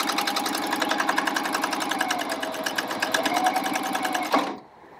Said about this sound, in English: it will start sewing and thread the machine through